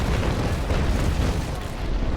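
Naval cannons firing in a sailing-ship battle game, with square-rigged ships in combat, heard as a dense, sustained roar of booming blasts that blend into one continuous rumbling wall of sound.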